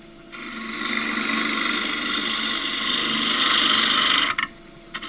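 A wood lathe turns the outside of a very old, dry Tasmanian blackwood bowl, a tool scraping steadily with a broad hiss for about four seconds before lifting off, followed by a couple of brief touches.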